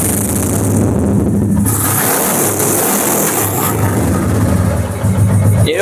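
A second-hand motorcycle with single ABS and a single disc brake, 16,161 km on the odometer, runs at a showroom near Tollygunge, Kolkata. Its engine drones steadily and loudly up close and revs throughout.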